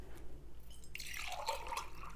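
Tap water runs and splashes into a large cooking pot, two glasses' worth, as the base for steaming chicken; a steady close pour with bright splashing that builds after the first second, with no talking.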